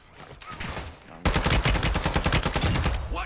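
Video game gunfire: after a quieter stretch of muffled shots with voices, a loud, dense automatic burst breaks out and rattles on for about two seconds before stopping abruptly.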